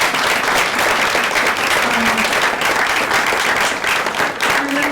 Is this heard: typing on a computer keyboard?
no